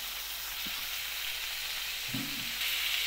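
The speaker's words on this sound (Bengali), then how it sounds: "বড় বড় চিংড়ি মাছ ভেজে নিই।" Big prawns sizzling in a pan of oil, an even close hiss that brightens toward the end, with a couple of brief low knocks, no voices.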